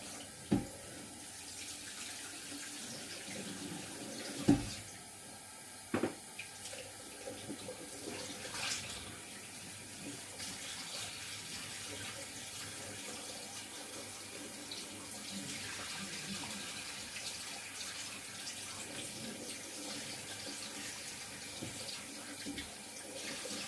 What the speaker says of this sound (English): I'm going to run the cold tap